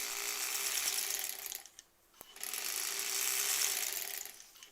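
A sewing machine stitches quilt strips together with a fast mechanical whir, pausing briefly in the middle with a single click before running on, close and alone.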